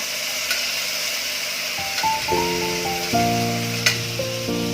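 Kabuli chana pulao ingredients with tomato sizzle in a pan while being stirred, a steady frying hiss with occasional scrapes and tonal clanks of the spoon against the pot, close and moderately loud.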